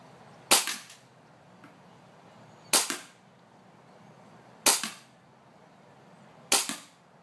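A WE 1911 MEU airsoft pistol fires four sharp cracking shots, spaced roughly two seconds apart, each with a brief ringing tail, loud and close with no talk.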